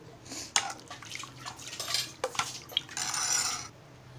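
A spoon stirs batter in a bowl, producing close scraping swirls with sharp clinks against the bowl's side and a longer wet swish near the end.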